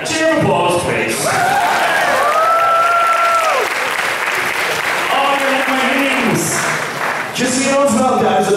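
A convention crowd at an anime event's charity auction bursts into loud, close applause and cheering, with whoops and sung-out voices rising above the sustained clapping throughout.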